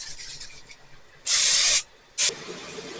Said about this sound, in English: first we're going to spray our pan.